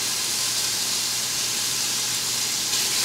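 Chopped bacon frying in extra virgin olive oil in a soup pot gives a steady, dense hiss and sizzle that stays loud and even throughout, with no talking.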